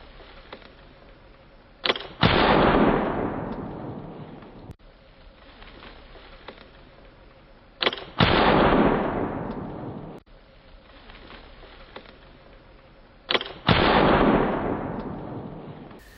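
A .62 caliber flintlock smoothbore fowler fires three times during a grouse hunt. Each loud boom follows a brief snap from the flash pan and rolls away in a long, fading echo.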